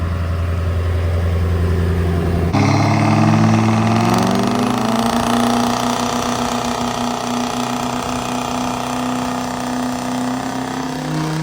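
Truck engine during a dyno-style run in hot ambient conditions, a loud steady drone that jumps sharply in pitch and then climbs smoothly under load, close and continuous with no talk.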